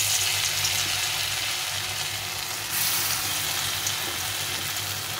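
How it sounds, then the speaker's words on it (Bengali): Gandha leaf fritters (bora) frying in a hot pan give a steady, loud oil sizzle with a constant crackling hiss that runs unbroken through the whole stretch, close by, with no voices. "কড়াইটা গরম হয়ে গেছে, এখন আমি বড়াগুলো ভেজে নেব।"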